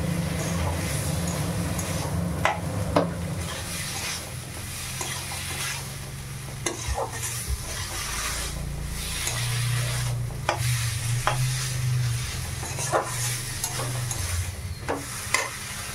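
Ghugni of boiled chickpeas with sugar and garam masala being stir-fried, a dense, steady sizzle with repeated scraping and knocking of a spatula against the pan, close and fairly loud throughout.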